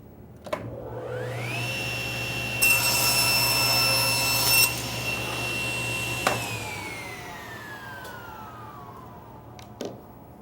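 A table saw spins up with a rising whine, then cuts straight through a piece of wood with a louder bright burst of cutting noise, before the motor winds down in a long falling tone, with a few sharp clicks afterward.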